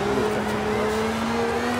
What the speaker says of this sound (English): Listen to that car, he's going, whoa!